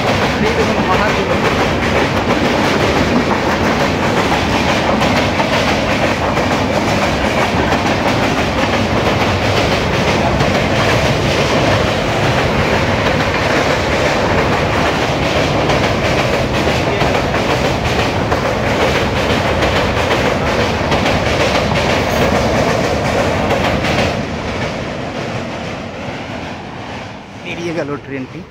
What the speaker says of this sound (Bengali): এই দেখুন ট্রেন আসছে, ওই দেখুন ট্রেন আসছে।